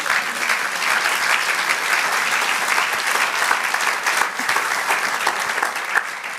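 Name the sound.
applause for the Lord in church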